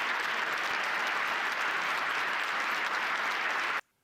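Steady, dense applause from a large crowd, sustained at an even level before cutting off abruptly.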